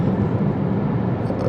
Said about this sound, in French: Désolé pour le bruit, je suis en voiture,